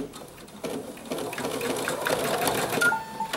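A sewing machine stitches a seam on a fabric owl mug rug, a rapid close mechanical whirring and clatter that starts abruptly and runs steadily for a few seconds.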